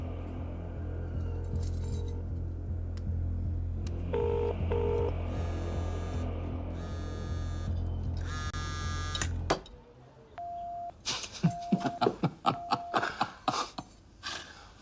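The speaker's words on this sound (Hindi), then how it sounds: "चल फोन लगा उसे।" A phone being dialed for a call in a Hindi comedy film scene, a run of short electronic keypad tones followed by a series of beeps and clicks, with background music earlier.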